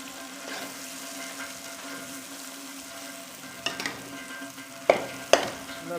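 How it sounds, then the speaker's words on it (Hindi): Chana dal roasting in ghee in a pan for halwa, a low continuous sizzle with a few sharp clinks and scrapes of a spoon stirring near the end, close up and free of speech. "अब हमने दाल को यहाँ पे भूनना है घी के साथ अच्छी तरह से"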